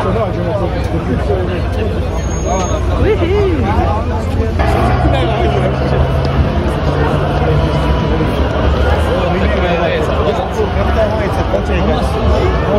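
A crowd of football fans walking to a Hajduk Split match in Split, Croatia, with a loud, close hubbub of many voices, footsteps and passing street noise.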